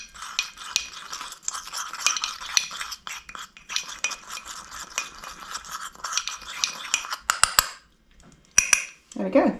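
Thanaka paste being stirred and mixed in a bowl, a steady scraping and clinking of utensil against the dish for several seconds, then a pause, a few sharp clinks and a brief voice at the end.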